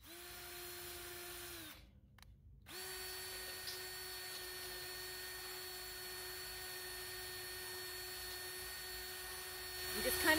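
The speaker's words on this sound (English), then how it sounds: "I'm just kind of smoothing it out a little bit." Power drill running in reverse to smooth out a freshly drilled hole while fitting a wheeled trailer jack support to a swing-away cargo carrier, a steady whine that stops briefly and then resumes, continuous and close.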